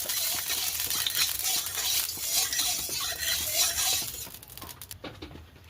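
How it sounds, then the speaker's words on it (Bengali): Oil being spread around a hot kadai (wok) before prawn paturi wrapped in bottle-gourd leaves goes in, giving a steady close sizzle with scraping and stirring scrapes, fading out near the end; no talking. "ওপর থেকে সামান্য একটু কোড়াতে তেল দেব এবং তেলটাকে পুরো কোড়াতে খুব সুন্দরভাবে"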